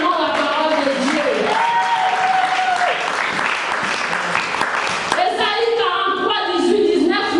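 A church congregation applauds at a women's convention, steady dense clapping filling the space for several seconds, with voices and sung or sustained tones layered over the applause.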